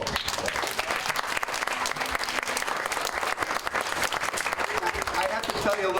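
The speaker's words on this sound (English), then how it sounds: "Let's have a round of applause for Sean Russell" A crowd at a summer reading and exercise challenge event breaks into steady, dense applause that stays loud throughout, with voices faintly mixed in.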